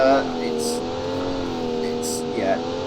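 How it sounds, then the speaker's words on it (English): A straight-six 3-litre engine in a sport budget car from the Automation game drones and revs with steady harmonic tones, rising and dipping slightly over a few seconds, close and continuous. "The straight 6 3-litre engine."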